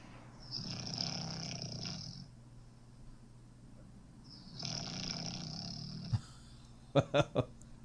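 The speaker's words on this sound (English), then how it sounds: "So this is a classic snore of the ones that it recorded to let me know." A recorded sleeping person snoring: two long, rough rasping breaths a few seconds apart, fairly close and moderately loud, followed by a few short sharp knocks at the end.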